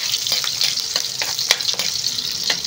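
Onions sizzle in a hot pan with a bright, crackling fry, broken by quick scraping stirs at an uneven pace, close up and with no voices.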